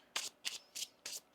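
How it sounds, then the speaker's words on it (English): Tarot cards shuffled by hand, four quick crisp riffling bursts in an even rhythm, close and fairly soft, with no talking. "One more shuffle."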